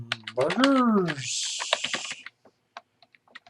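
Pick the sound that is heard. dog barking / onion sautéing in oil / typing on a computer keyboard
typing on a computer keyboard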